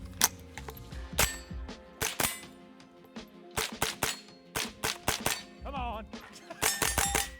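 A Winchester .22 rifle fires at a target on a range, producing a string of sharp, irregularly spaced shots with metallic clangs from the target, and a brief voice is heard between them.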